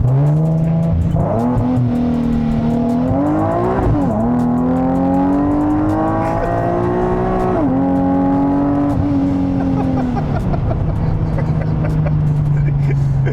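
A supercharged 2010 Nissan 370Z pulls hard on stock tires, its engine note climbing steadily through the gears with brief dips at each shift, loud and close for the whole stretch.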